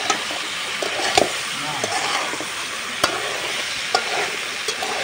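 Eggs and cut potatoes stirred into salt, turmeric and chilli spice paste frying in a pan, with a steady close sizzle broken by several sharp scraping stirs of the spoon.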